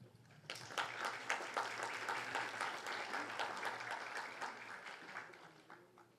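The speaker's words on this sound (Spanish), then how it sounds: "a quien recibimos con un fuerte aplauso" An audience at a legal lecture gives a warm round of applause to welcome the invited speaker, steady clapping that swells and holds evenly for several seconds before fading.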